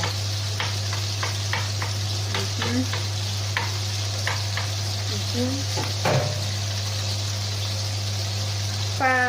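A homemade burger patty frying in oil gives off a steady, even sizzle, close and continuous, with occasional faint scrapes and clinks and soft talking.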